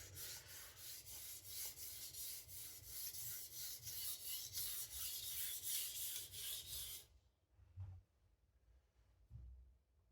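A MagnaCut steel chef knife scrapes back and forth on a sharpening plate in a steady rhythmic rasp, close and continuous, then stops, leaving a couple of faint handling thuds.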